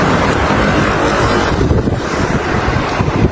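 Strong wind blowing outdoors near hillside buildings in Malaysia just before rain, a loud, steady roar buffeting the microphone throughout with no clear speech.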